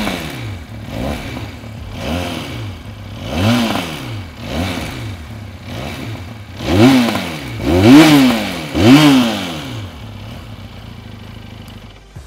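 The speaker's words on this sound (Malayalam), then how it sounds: "നമുക്കിനി ഒന്ന് എഞ്ചിൻ നമുക്കൊന്ന് റെവ് ചെയ്ത് നോക്കാം." Benelli 502 Urban Cruiser motorcycle engine with a dual-barrel exhaust, revved repeatedly in a steady series of rising and falling blips, the last three louder and sharper, ending at idle; one brief spoken word.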